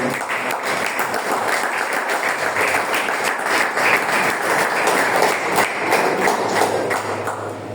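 Church congregation clapping during a sermon, loud and close, a steady rapid patter of many hands with a few heavier thuds, sustained without letup and no talking over it.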